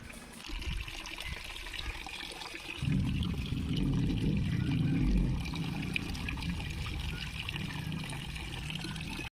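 Running water splashes steadily while a kitchen chimney filter is washed with detergent, the flow growing louder and fuller partway through and then settling into a continuous rinsing wash.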